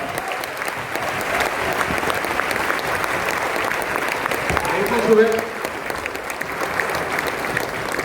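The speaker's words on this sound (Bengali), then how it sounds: "হাততালি আর একটু জোরে হতে পারে" An audience at a business meeting on stage claps in a steady, dense burst of applause that carries throughout, with a brief louder swell near the end.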